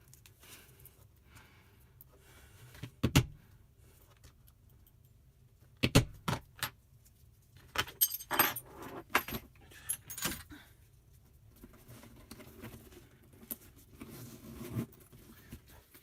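A metal keychain jangles and clinks in short bursts as it is fastened onto the zipper of a hand-sewn Boston bag, close and clear against a quiet room with soft handling sounds between.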